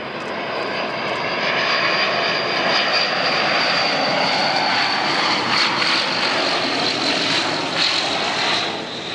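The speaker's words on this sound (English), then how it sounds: "This plane approaching the runway in a nosedive." A fixed-wing propeller airplane approaches a runway in a steep nosedive, its engine droning loud and steady throughout with a rough, sustained roar and no voices.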